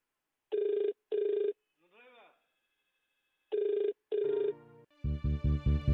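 A telephone rings at night in two paired bursts of bright trilling bells, separated by a short gap with a faint voice. A louder, harmonically rich musical sting follows.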